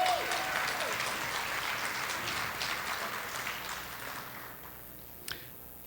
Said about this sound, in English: So please give a round of applause to the Professional Development Committee.